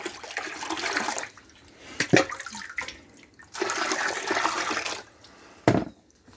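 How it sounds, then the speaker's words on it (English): Water runs and splashes into a concrete pila washing basin in a Guatemala home, a steady rushing pour in bursts with brief pauses and a louder gush near the end, no voices. "So you fill the basin up with water"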